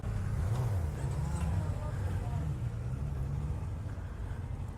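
Engine of a 2018 Kawasaki Ninja 400 motorcycle, a steady low hum with gentle swells in pitch like light revving, heard under background noise and a person speaking.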